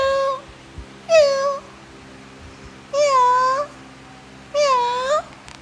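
A cat meows three times, drawn-out and rising then falling, each cry separated by a second or so of quiet with a low steady hum beneath.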